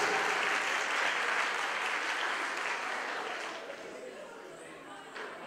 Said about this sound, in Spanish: los aplausos, Leisa Ramos.